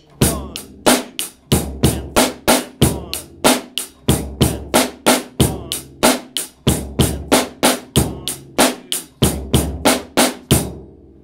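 Rock beat on a drum kit with a steady double bass drum pattern from the feet under a snare backbeat, evenly spaced loud hits for about eleven seconds, played alone.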